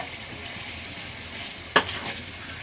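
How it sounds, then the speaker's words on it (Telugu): Chicken pieces fry with yogurt for restaurant-style chicken biryani, giving a steady, close sizzle with one sharp clink of a stirring utensil against the pan partway through. "ఒక చిన్న బౌల్ అంతా పెరుగు కూడా బాగా వేపేసుకొని ముక్కకంతా పట్టేటట్టుగా"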